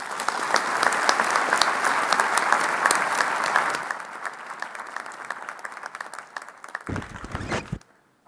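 A crowd applauds loudly, the dense clapping thinning out and fading before stopping near the end.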